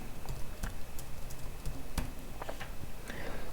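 A query being typed on a computer keyboard, a quick irregular patter of key clicks with a few sharper strokes, close and fairly quiet over faint room noise, with no voices.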